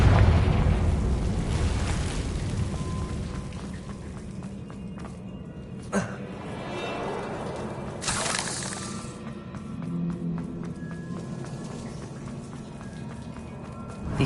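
A Confringo fire spell blast in the game Hogwarts Legacy, a loud rumbling explosion with crackling debris, followed by further bursts and a steady roaring, crackling wash.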